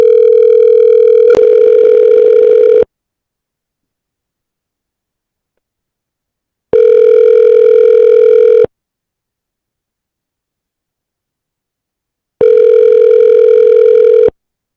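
An outgoing phone call to a real estate listing rings back three times, each ring a loud, steady tone lasting about two seconds with long silent gaps between.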